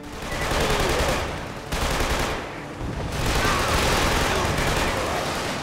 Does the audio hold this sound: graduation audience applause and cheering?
no